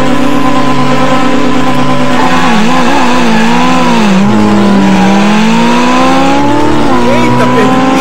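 Car engines roaring at a drag race start in the video game Estilo BR, a loud continuous revving with sweeping pitch rises as cars accelerate, close and dominant, with a voice talking over it.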